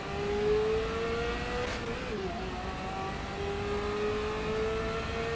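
A racing car engine in Assetto Corsa EVO whines continuously, its pitch climbing, dipping briefly, then climbing again as it revs through gears.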